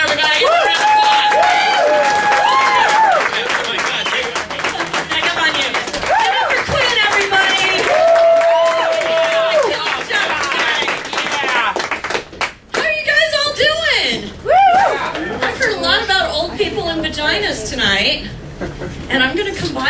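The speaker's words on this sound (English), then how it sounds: "I need you to give her a big round of applause." Comedy-theatre audience at the Ziegfeld Theatre claps and cheers for a comedian, with the applause building under a loud voice on a microphone and then breaking into sharp, scattered clapping near the end.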